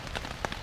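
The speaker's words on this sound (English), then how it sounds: "Rain's finally dying down." Rain falls steadily on a riverside campsite during a three-day kayaking and camping trip, a soft continuous patter with a few slightly sharper drops standing out, and no voices.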